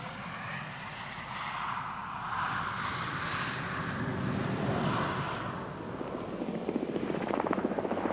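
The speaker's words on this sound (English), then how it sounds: "Now another Wessex HCC-4 from the Royal Flight based at RAF Benson." Westland Wessex HCC-4 helicopter of the Royal Flight from RAF Benson at the 1993 International Air Tattoo, a steady droning rotor and engine noise building slightly, with faint rhythmic blade chop toward the end; no talk.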